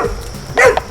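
A thin, emaciated rescue dog that had been kept chained gives a short, close bark.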